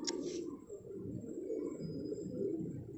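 Gola fighter pigeons coo in a low, continuous murmur of overlapping throaty calls, faint and close, with a brief higher chirp at the start.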